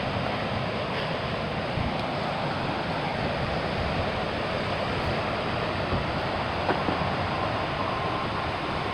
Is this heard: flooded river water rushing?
yes